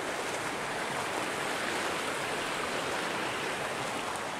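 River stream flowing in woods at night, a steady, broad rushing hiss of moving water, continuous and unbroken from start to finish.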